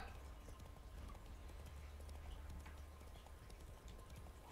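Roach, a horse in The Witcher 3, trots along with a steady, rhythmic clip-clop of hooves. It sounds quiet and continuous over a low rumble.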